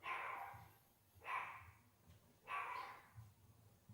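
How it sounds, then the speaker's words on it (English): A dog barks three times at a steady rhythm, faint and somewhat distant, with low background rumble between barks. "Ugh, it's my dog."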